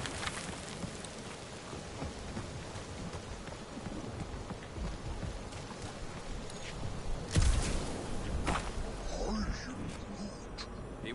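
Steady rain falls in the Guardians of the Galaxy video game, a continuous broadband hiss with a brief louder swell near the middle and no gaps.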